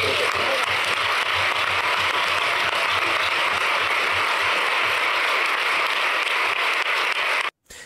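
A crowd at a Spanish political speech applauds steadily, a loud, dense wash of clapping that runs unbroken for nearly eight seconds before cutting off abruptly.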